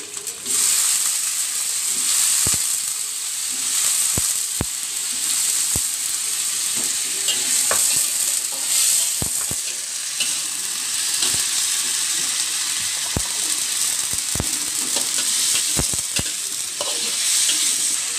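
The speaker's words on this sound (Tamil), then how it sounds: "சொரக்காயும் இதில் நல்லா வதக்கிடும்" Bottle gourd and tomato sautéing in a pan for turmeric coconut curry, a steady close sizzle with frequent sharp taps of a spoon stirring and scraping, no talking.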